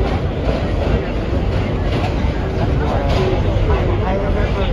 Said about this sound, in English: Manhattan bound Q train